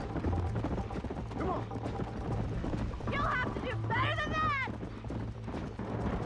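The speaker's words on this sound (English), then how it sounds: "I'm gonna beat this horse to death getting you." Galloping hoofbeats of a horse ridden in the video game Red Dead Redemption, a steady rapid drumming mixed with game sounds and a brief whinny, heard beneath someone talking.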